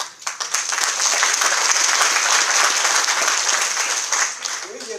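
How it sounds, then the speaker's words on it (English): A room of classmates at a 50th high school reunion applauds the park superintendent, dense loud clapping that holds steady for several seconds before thinning out, with a voice starting to talk at the very end. "everybody needs to give him a round of applause"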